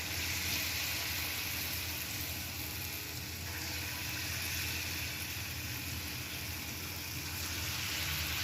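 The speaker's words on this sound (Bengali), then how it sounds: "এইভাবে কড়াইয়ের মধ্যে অল্প অল্প করে দিয়ে দিয়ে ভেজে ভেজে তুলে নেব" Palm fritters (taler bora) fry in a wok of hot oil, giving a steady, even sizzle with no break throughout and no voices.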